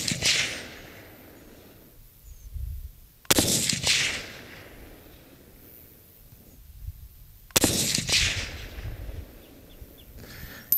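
A 6mm ARC rifle fired at paper and steel targets across 100 to 600 yards: two loud, sharp gunshots several seconds apart, each rolling away in a long echoing tail over the open range.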